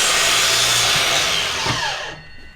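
A power saw cuts wooden window casing to length with a loud, close grinding whine that holds steady, then tapers off as the blade spins down near the end.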